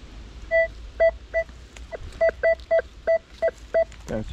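A metal detector sounds its signal tones during a search for old relics: about ten short, sharp beeps in an irregular rhythm, clear and close, with no voices.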